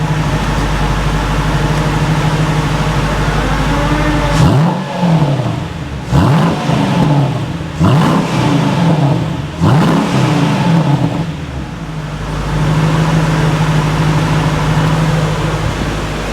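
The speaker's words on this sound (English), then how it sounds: "Let's give it a rev." A Mercedes SLK55 with a 5.5 litre V8, recorded close to the rear of the car, settles into a steady idle before several sharp, loud revs rise and fall in quick succession, then drops back to a smooth idle.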